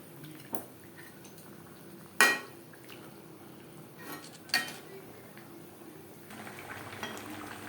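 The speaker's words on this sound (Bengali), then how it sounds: "পেঁয়াজ টমেটোর সাথে চিকেন বেশ ভালো করে মিক্স করে দেব" A utensil stirs chicken with onion and tomato in a pan over high flame, giving a few sharp metallic clinks and scrapes against the pan over a low background hiss, with no speech.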